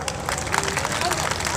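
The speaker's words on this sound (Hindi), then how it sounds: "जोरदार ताली।" An audience applauds at a Bahujan community gathering honoring Ambedkar, a lively spread of clapping from many hands with a murmur of voices running through it.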